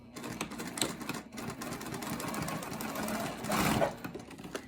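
A sewing machine stitches across a wallet panel below the first card slot in rapid, rattling bursts, stopping briefly and then running again, loud and close with no voices.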